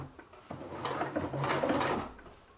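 A home sewing machine stitching silpoly fabric for a backpacking rain skirt at a 2.2 stitch length, a short close mechanical whirring run of about two seconds that swells and fades.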